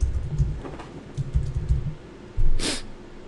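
Quick keystrokes on a computer keyboard, a short burst of clicky taps followed by a brief louder clack, close and clear with no talking.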